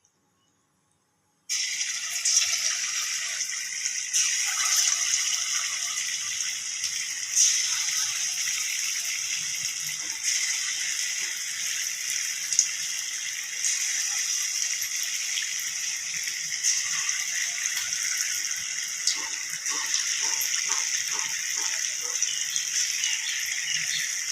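Small idli-batter bondas deep-frying in hot oil, a steady close bubbling sizzle with crackling pops that runs on without pause from soon after the start.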